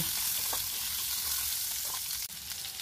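Diced potatoes frying in spiced oil in a pan for a vegetarian Bengali banana-flower dish, giving a steady close sizzle with faint stirring scrapes and no talk.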